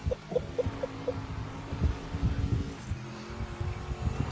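Race car engine in the video game Project Motor Racing, a steady mid-level drone with fluctuating revs and a few short tonal blips early on, no talk over it.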